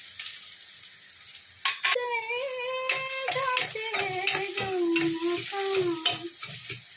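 Mustard seeds crackle and pop in hot frying oil under a steady sizzle, with sharp close spatters scattered throughout while someone talks over the cooking.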